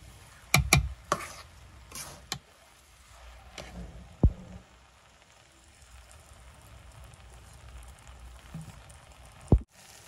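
Food stirred in a small kadai, a few sharp scrapes and knocks of a spoon against the pan early on, then soft intermittent shuffling and a faint sizzle-like hiss, close and fairly quiet.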